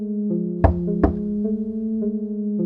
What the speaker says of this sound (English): I faintly heard a knocking sound.